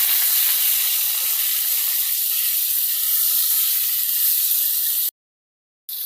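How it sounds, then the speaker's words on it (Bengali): Pieces of rohu fish fry in a pan with a steady, close, loud broadband sizzle that runs unbroken for about five seconds, then cuts out briefly before resuming. "পরের সাইডটাও ভেজে নিব মাছগুলো"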